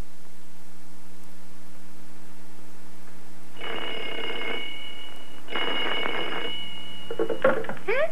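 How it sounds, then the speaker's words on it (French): An old telephone bell in a French television episode rings in two loud, close bursts of about a second each, separated by a short pause, with a brief clatter at the end and no talking. "Laisse, Minifée, c'est pour moi. Allô"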